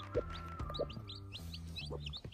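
A hen gives a series of low, rhythmic clucks to call her chicks to food, close and fairly quiet, with faint high chick peeps scattered between them.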